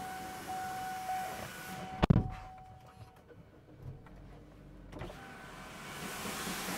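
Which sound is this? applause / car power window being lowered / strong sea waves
car power window being lowered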